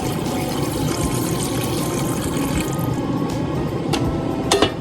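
Hot water pours steadily into a cooking pot of macaroni soup for several seconds, a continuous splashing gurgle with a couple of light clinks near the end.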